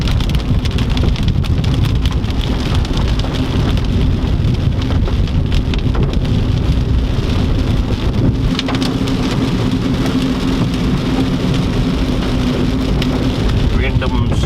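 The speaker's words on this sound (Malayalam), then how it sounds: "നല്ല സൂപ്പർ മഴയാണ്." Heavy rain pours down during a road trip toward Kottayam, a dense, loud, continuous pattering roar that stays constant throughout with faint low rumbling underneath and no talk.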